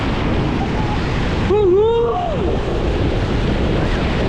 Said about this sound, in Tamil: இங்கே அடிக்குது அலை. பெருசாக வருது